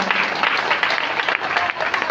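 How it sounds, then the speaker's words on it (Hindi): Energetic applause from an audience gathered at a Bhagavat Katha religious discourse in Patna, a dense, steady wash of clapping without speech. "एक जोरदार ताली"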